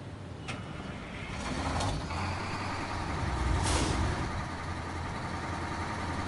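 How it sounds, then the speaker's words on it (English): Heavy truck engine from the SnowRunner video game runs steadily at a low rumble throughout, with a brief hissing burst partway through. "That actually sounds like an engine."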